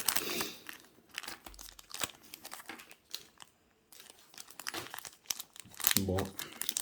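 Crinkling and tearing of a foil Pokémon 25th Anniversary Celebrations booster pack wrapper, busy close rustles in bursts with a pause midway, under and between speech.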